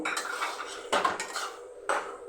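Cooked taro stems with prawns are scraped and tipped from a pan into a bowl, giving a few sharp metallic clinks and scrapes between softer shuffling, close by with no talking.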